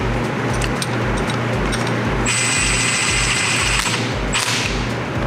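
Ratchet with a 10 mm socket running down the fuel injector rail bolts on a Cobalt SS, giving a steady, loud, close mechanical buzz with rhythmic low pulses throughout and a brighter whine that comes and goes.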